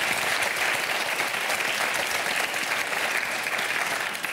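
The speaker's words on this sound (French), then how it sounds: "On l'applaudit pour son talent." Audience applause for a guest on a French television show, a dense steady clapping from a sizeable crowd that holds at full strength throughout.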